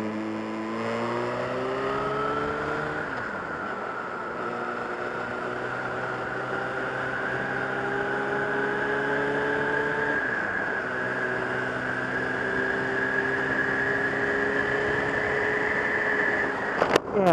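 An engine drones steadily on an evening motorcycle ride, with pitch climbing through each gear and dropping sharply at two clumsy gear changes, then rising again for a long steady pull.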